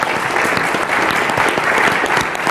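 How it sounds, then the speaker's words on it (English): Audience applause for the finalists at a local digital marketing awards event, dense continuous clapping from a full room, loud and steady across the whole moment with no voices standing out. "So first, round of applause for the finalists."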